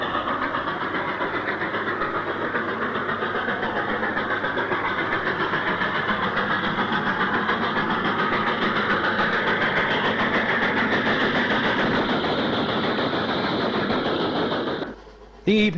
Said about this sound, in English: almost full regulator will be applied to this 8F on its Class 8 unfitted iron ore train